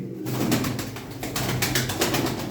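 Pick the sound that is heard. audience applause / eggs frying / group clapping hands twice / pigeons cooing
pigeons cooing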